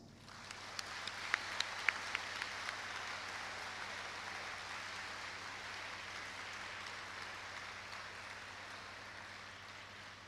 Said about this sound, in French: à nous de lui témoigner notre reconnaissance par ce concert d'applaudissements